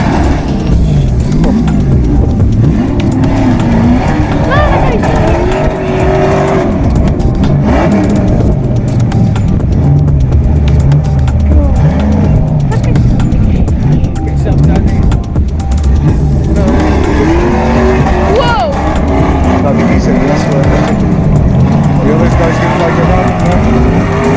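A loud Ultra 4 off-road race car engine roars continuously and builds in intensity at Walters Arena, South Wales, with excited voices talking over the din throughout.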